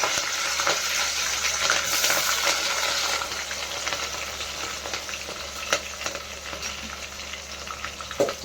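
Garlic and green chillies frying in a pan give off a steady, dense sizzle with occasional stirring clicks and scrapes, close and fairly loud throughout, with no voices.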